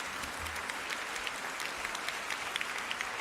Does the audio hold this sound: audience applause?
yes